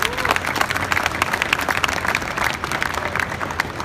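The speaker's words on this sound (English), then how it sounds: "Let's give them a round of applause." Audience applause at the 2016 SEMA Show convention floor, a steady, dense patter of many hands clapping, moderately loud, with crowd murmur beneath.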